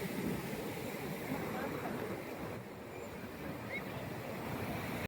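Sea waves at Nagoa Beach in Diu roll and break in a steady, loud wash of surf with wind noise, continuous throughout with no clear separate crashes.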